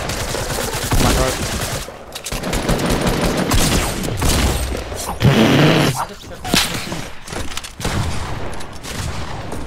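Video game gunfire including a shotgun blast, with dense, loud bursts of shots and sharp cracks throughout, mixed with other game effects and occasional voice activity.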